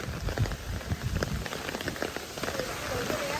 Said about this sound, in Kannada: ಜೋರು ಸ್ಟಾರ್ಟ್ ಆಯ್ತು ಈಗ ಮಳೆ.